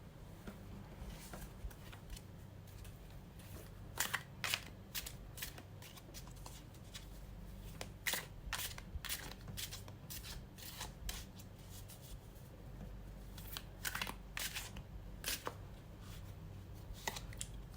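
Tarot cards being shuffled by hand, a steady stream of soft riffling and flicking bursts at close range, repeated throughout over a low constant background hum.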